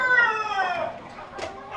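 Free-range Indonesian village chickens cluck close by while a rooster crows, a drawn-out rising call followed by short clucks, moderately loud outdoors with no talking.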